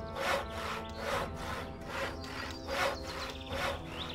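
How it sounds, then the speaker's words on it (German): Rhythmic hand sawing of wood by a character in the game Gothic: about five back-and-forth rasping strokes in a steady cadence, fairly close and clear over a soft ambient background. "Was da heißt, dass er jetzt gerade hier am Sägen ist."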